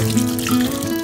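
Glutinous rice being washed in water for chocolate porridge, a steady close sloshing and running-water wash lasting about a second with no voices.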